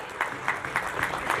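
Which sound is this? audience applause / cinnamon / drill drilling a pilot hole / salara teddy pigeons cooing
audience applause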